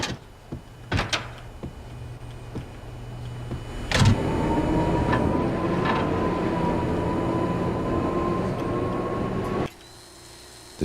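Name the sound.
train powering up in Max Payne video game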